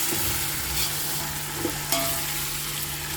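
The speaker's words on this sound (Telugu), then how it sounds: "ఇప్పుడు ఆవం వెల్లుల్లి పేస్ట్ ఉంచాం కదండి కొద్దిగా వేయించుకుంటే స్మెల్ బాగుంటుందండి" Ginger garlic paste fries in a pan for mutton biryani, a steady close sizzle with a few soft stirring scrapes, no voices.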